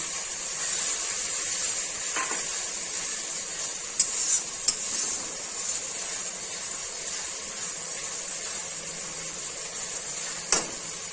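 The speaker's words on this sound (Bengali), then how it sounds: "এবার রসুন বাটা আর গোলমরিচ বাটাটা ছেড়ে দিচ্ছি।" Garlic paste and ground black pepper paste sizzle in hot oil for an Echor Chingri curry, a steady loud frying hiss throughout with a few sharp spits and crackles popping out near the start, middle and end.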